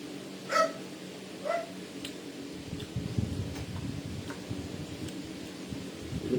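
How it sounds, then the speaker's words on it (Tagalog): A neighbour's dog gives two short, distant barks near the start, followed by a low, rumbling background clatter. "Bagong lipat din kaming kapitbahay, may asong maingay."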